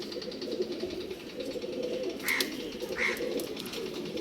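A male pigeon offered for sale in Bangalore coos softly amid low background noise, with a couple of brief higher calls standing out over the murmur.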